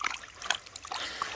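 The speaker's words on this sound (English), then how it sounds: "we'll just let the water action wash them off" Water trickling and splashing softly as it washes moss, roots and gravel in a gold pan at a creek in West Virginia, a faint uneven dribble heard alone.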